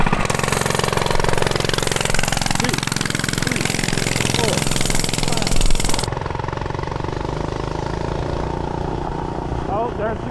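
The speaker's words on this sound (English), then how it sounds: "So I'm gonna ride down the road and ride back." A Rascal Lite mini bike's small engine buzzes loud and steady as it rides down the road, the pitch climbing with speed and then settling lower, with a voice talking over it.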